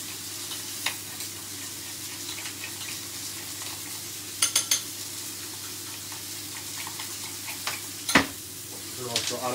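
Ingredients for a honey mustard steak are stirred together, with soft scraping and sizzle-like texture beneath a steady background hum, punctuated by a few sharp clicks and taps of utensils against a bowl.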